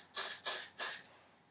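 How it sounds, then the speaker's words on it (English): Three short bursts of hairspray aimed at the roots of the hair, each a soft close hiss with brief pauses between, no talking. "And you're going to spray the roots."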